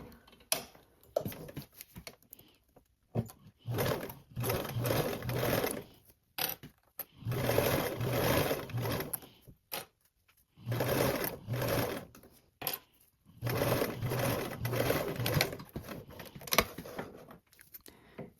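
A sewing machine stitches a seam on bias tape, rapid mechanical needle clatter in several bursts of a couple of seconds each, separated by short pauses, close and steady.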